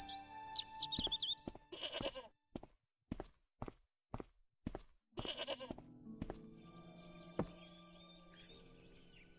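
A tethered goat in the Broken Sword point-and-click game bleats in a run of short, evenly spaced calls near the listener, following a brief sigh-like sound, with a faint steady hum left after the calls stop.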